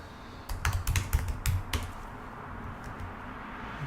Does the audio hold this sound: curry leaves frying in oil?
no